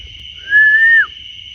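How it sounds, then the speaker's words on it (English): A single clear whistle in a forest at night, held steady for about half a second, rings out against a quiet background with a faint constant high tone. "I just heard a whistle."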